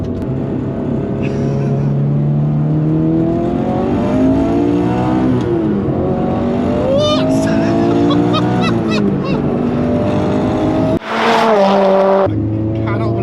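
A turbocharged Subaru BRZ on low boost accelerates hard from close range, engine pitch climbing through repeated gear pulls with turbo whistle, then a sharp burst of blow-off and a shift near the end, with a voice speaking over it.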